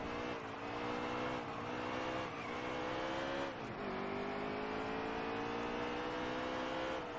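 Race cars run at Martinsville in the NASCAR Heat 3 video game, with a continuous loud engine drone whose pitch rises and dips as the cars accelerate and brake through the turns, and no talk.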